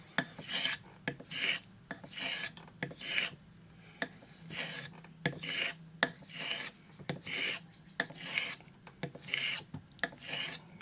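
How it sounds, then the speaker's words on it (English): A straight razor, a Thiers-Issard Evide Sonnant Extra, is honed on a Norton Ascent stone, giving a close, rhythmic series of gritty rasping strokes, about a dozen evenly paced back-and-forth passes with soft gaps between them. "This is kind of a test pilot way of honing."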